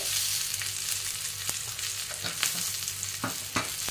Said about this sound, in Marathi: आता त्यामध्ये लसूण टाकायचे, थोडीशी जिरे टाकायचे